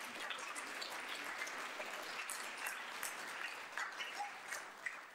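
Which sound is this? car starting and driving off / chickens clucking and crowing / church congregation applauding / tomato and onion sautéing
church congregation applauding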